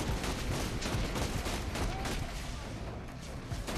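Steady rapid gunfire from a shooter game, dense overlapping shots crackling continuously for several seconds at a fairly close, loud level with a thick noisy background.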